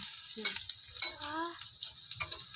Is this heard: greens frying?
yes